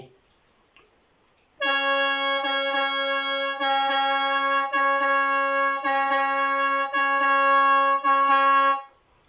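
A reedy khaen mouth organ holds a single sustained note, mi, for several seconds, with brief breaks where the player re-breathes, close and clear.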